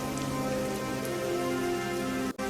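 Heavy rain falling in a dense, continuous roar on surfaces, steady and loud throughout, cutting off abruptly at the very end.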